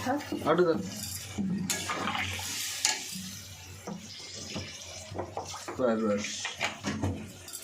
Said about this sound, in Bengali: আর একটু জল দিতে হবে